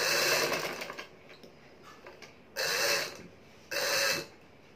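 A sewing machine stitches a kurti in two short, loud bursts of steady whirring, with quieter handling of the cloth and fabric rustle in the pauses between runs.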